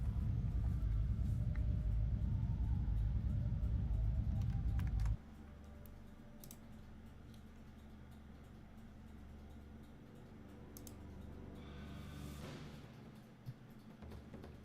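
Computer keyboard clacks tap lightly and irregularly beneath a low, steady rumble that drops in loudness partway through.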